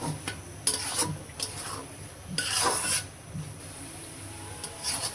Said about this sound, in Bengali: এইভাবে আস্তে আস্তে চুলার জাল আস্তে আস্তে দিতে হইব, দিয়ে আস্তে আস্তে ভাজা ভাজা করতে হইব